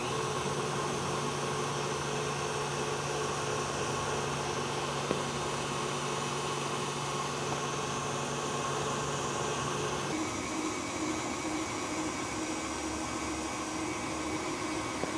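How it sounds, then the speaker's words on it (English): A stand mixer with a whisk attachment beats cream cheese and butter for frosting, giving off a steady motor whir with a faint metallic rattle that shifts slightly in tone partway through. "Switching to the whisk attachment now, we're gonna start beating this cream cheese and the butter together"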